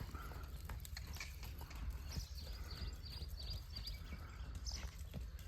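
A mare walks at an even pace, her hooves clip-clopping in a steady rhythm at moderate distance over a constant low background rumble.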